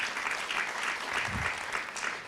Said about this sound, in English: Let's give a round of applause to all of our panelists.